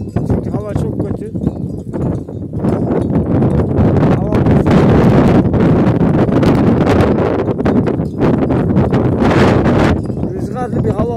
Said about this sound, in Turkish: Rüzgarlı bir hava var arkadaşlar.